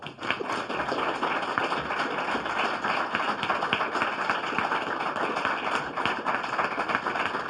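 Audience applause at an award ceremony, a dense, steady burst of many hands clapping that fills the room for the whole stretch without a break.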